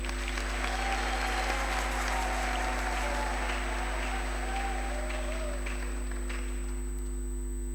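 A congregation applauds to welcome priests during a Catholic Mass at a night of prayer, with sustained steady clapping filling a reverberant church over a constant low hum.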